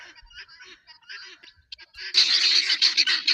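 Pigeons calling close by, scattered squawks that build into a loud, dense burst of harsh cries.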